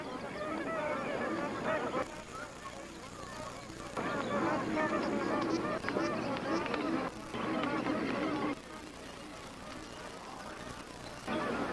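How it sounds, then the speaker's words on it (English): A large flock of magpie geese honks continuously in New Guinea, a dense chorus of overlapping calls rising and falling in waves, nearby and loud. "These magpie geese are searching for tender aquatic plants."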